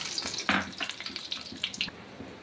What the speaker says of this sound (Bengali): তেলটা গরম হয়ে গেছে, আমি এখন তেজপাতা দিয়ে দেবো ফোড়নে, আর এলাচ দারচিনি লবঙ্গ ফোড়নে দিয়ে দেবো